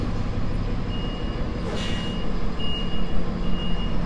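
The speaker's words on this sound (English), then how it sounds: "It's a Pepsi truck." A Pepsi delivery truck reverses with a faint, high warning beep repeating at intervals over a constant rumbling engine and broadband street noise.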